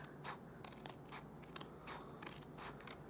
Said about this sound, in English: I'm going to cut along that score line that we made with our lid or our